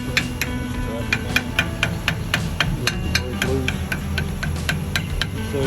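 A 2024 Chevy Sierra HD axle is tapped to break it loose: a series of sharp, close metallic taps at a fairly even rhythm over a steady background hum.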